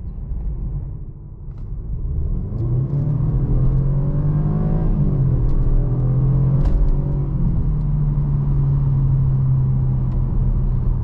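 A 2022 Jaguar XF R-Dynamic SE engine rumbles low, then revs up hard and holds a strong, rising roar as the car accelerates for several seconds in automatic.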